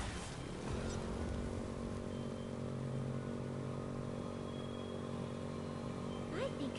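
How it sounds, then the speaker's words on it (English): Motorcycle engine in Code Vein 2, a low, steady rumbling idle that runs throughout at a faint level without clear revving. "I think I might like this motorcycle."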